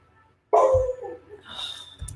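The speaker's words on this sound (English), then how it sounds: "You get dogs and phones ringing and all kinds of craziness." A dog barks and yips indoors in a home office, a loud burst of barking followed by softer whining and a final short yip, with no talking.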